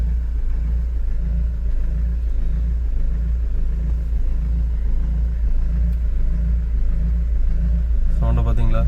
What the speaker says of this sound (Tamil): என்ஜின் ஸ்டார்ட் ஆயிடுச்சு.